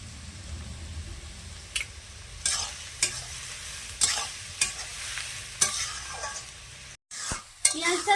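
Onions sizzle and crackle steadily in a hot pan, with a spatula scraping and stirring at intervals and brief clinks of the pan.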